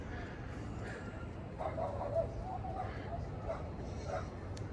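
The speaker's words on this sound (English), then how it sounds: "there's dogs running around the neighborhood." Dogs in a neighborhood let out faint, distant barks and yips over a low background hum, a few short scattered calls rather than a steady chorus.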